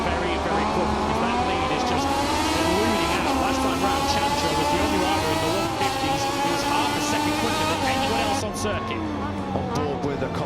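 Moto2 racing motorcycles at full throttle through a high-speed sweeping section of the 4.8 km Motegi circuit in Japan: a continuous, loud, rising and falling engine whine under steady race commentary.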